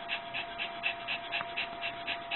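A frightened dog wearing a Thundershirt pants rapidly during an anxiety attack at night, a steady rhythm of about ten quick breaths close to the microphone, fairly quiet and alone.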